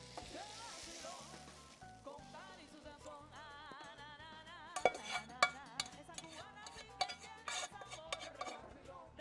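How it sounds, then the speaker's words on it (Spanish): Sofrito of carrot and onion pours over shredded beef and sizzles steadily, with clinks and utensil knocks growing busier toward the end over tonal background music. "Y ya le vamos a echar todo este sofrito"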